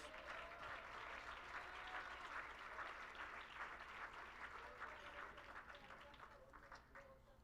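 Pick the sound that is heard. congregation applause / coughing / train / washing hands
congregation applause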